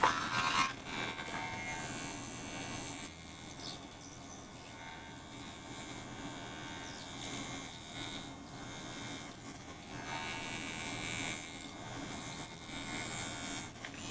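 A sonic facial cleansing brush runs with a steady close electric buzz and faint hum, its tone wavering slightly as it moves over the face, with no talk.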